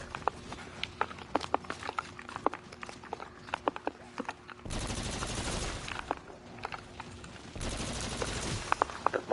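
A Mauler weapon in Halo fires as a series of separate sharp shots with a steady rhythm and brief bursts between, near and loud, with two longer noisy stretches of heavier firing or blasts.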